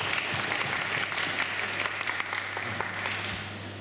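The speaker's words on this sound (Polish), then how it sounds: "Wielkie brawa." An audience at a Cosmos Discovery event in Poland applauds loudly in welcome as General Mirosław Hermaszewski is invited on stage, with continuous dense clapping throughout and a low steady hum underneath.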